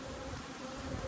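Honeybees hum steadily from an open hive with cross comb built in empty space, a dense continuous buzz of many insects close by, even in loudness throughout.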